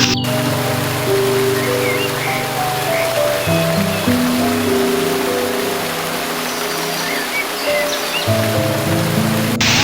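A park waterfall at Green Valley Park in Natore gives a constant, loud broadband rush of falling water. Sustained musical tones play alongside it for the whole stretch.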